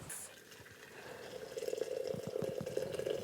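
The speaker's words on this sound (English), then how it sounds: "Now add my water." Water pours into a teapot to brew tea in a farm kitchen, a steady close splashing fill that grows louder and more bubbly over a few seconds, with faint drips and no talk.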